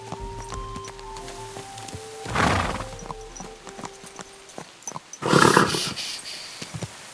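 A horse in the Kingdom Come Deliverance II video game clip-clops and gives two breathy snorts or whinny bursts, close by, over soft sustained musical tones.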